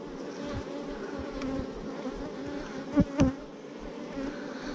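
Honey bees humming steadily in an open beehive, a dense close drone with a few louder individual bees buzzing past near the microphone.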